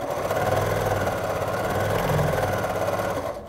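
A sewing machine runs fast and steady, stitching fabric for bias binding with a continuous close mechanical whir that holds for a few seconds before easing off at the end.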